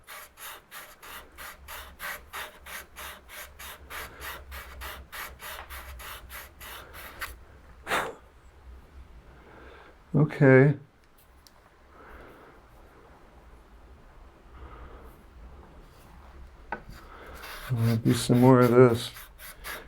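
Rhythmic rasping strokes of a metal plane sole dragged over sandpaper, steady back-and-forth, then a pause with brief speech and a few slower scrapes.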